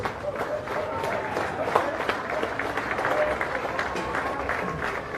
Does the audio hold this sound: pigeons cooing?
no